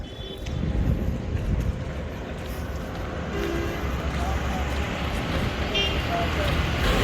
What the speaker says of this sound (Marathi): याच्यात बॅकग्राऊंडचा आवाज गाड्यांचा असणारच, कारण आपण रोडवरनं चालतोय